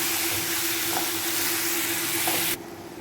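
Ground tomato and turmeric fry in a pan with a loud, steady sizzle and hiss that runs continuously before dropping abruptly to a quieter simmer near the end.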